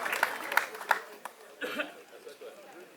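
Audience clapping at a Gabonese customary wedding, a brief patter of claps and light crowd chatter mixed with voices, fading into a murmur of talk.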